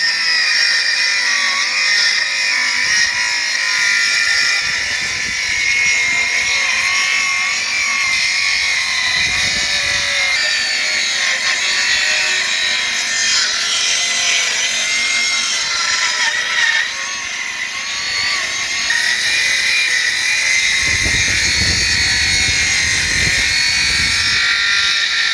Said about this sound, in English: So you can see here where the saw is coming down, that's where we're cutting